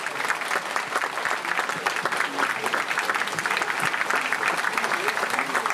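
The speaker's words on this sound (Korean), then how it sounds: "이 두 사람의 부부됨을 큰 박수로 축하해 주시기 바랍니다." Enthusiastic applause from wedding guests at a traditional Korean wedding ceremony, a dense, sustained clapping from a crowd that continues steadily throughout.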